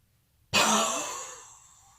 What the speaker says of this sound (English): you breathe in, and you breathe out powerfully